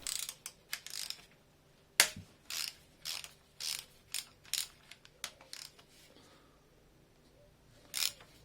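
Ratchet wrench working on the tensioner of a Triumph TR7 engine during a strip-down, a series of short, close ratcheting bursts in an uneven rhythm with one sharp metallic knock, otherwise quiet.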